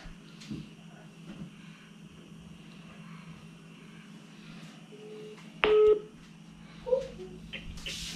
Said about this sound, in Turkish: Endi hozir yana telefon qilamiz.